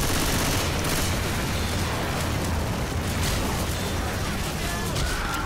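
Dense, continuous gunfire in Left 4 Dead 2, a loud, unbroken roar of shots and blasts layered together for several seconds with a voice faintly mixed in.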